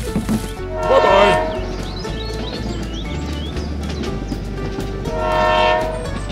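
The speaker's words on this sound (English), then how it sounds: "The train departs to deliver goods." A freight train departing with loud horn blasts at the start and again near the end, its rolling rumble and wheel clatter continuing steadily in between.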